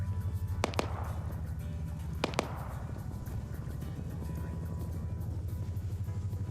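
Gunfire in the military video game Arma aimed at a Chinook helicopter, two pairs of sharp distant shots cracking over the steady low throb of helicopter rotors.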